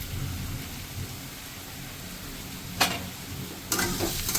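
Chopped ginger drops into a hot pan of sizzling onions for soya manchurian, with a sharp burst of sizzle and then a second, louder and longer hiss over a low background crackle.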